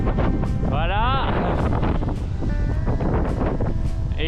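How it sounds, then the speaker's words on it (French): Gusty wind rumbles steadily against the microphone while someone talks underneath the roar. "Depuis que je suis parti, il y a beaucoup de vent."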